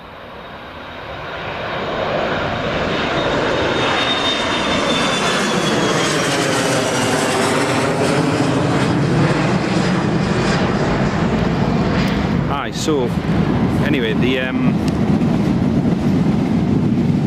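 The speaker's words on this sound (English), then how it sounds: "Here goes the Loganair to Stavanger. Let's get that departing first." A Loganair airliner departs Newcastle International Airport bound for Stavanger, its engine roar building over the first two seconds and then holding loud and steady throughout, with no talk.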